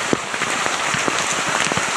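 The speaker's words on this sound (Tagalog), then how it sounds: "Dito na tayo sa mga parang nagatagas-tagas ulan, parang nagaulan-ulan." Water drips and patters steadily like rainfall, many small droplets landing in a dense, continuous rain-like spatter with no voices.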